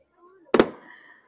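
A single firework bursts with a sharp loud crack over the sea on Bastille Day, followed by a brief fading crackle after a faint lead-in.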